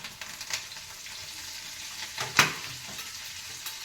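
Cumin, mustard seeds and sambar powder are tempering in hot oil, making a steady, soft sizzle with one sharp crackling burst partway through and no voices.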